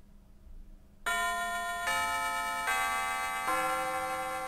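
A school bell in the video game Mega Man Battle Network 6 rings out in four loud, sustained chime tones stepping in pitch like a ding-dong melody, each note ringing clearly into the next after a quiet start.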